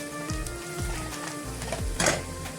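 Onion and ginger-garlic paste fry in a pan with a steady, close sizzle and crackle, with a few soft spoon scrapes and no voices.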